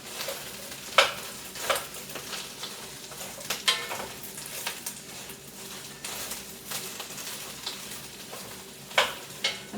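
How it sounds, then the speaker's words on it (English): Chicken meatballs for a low-carb chicken and cabbage soup sizzle in a hot pot while being stirred, a steady crackling fry broken by several sharp scraping and clinking stirs. "Can you hear it sizzling?"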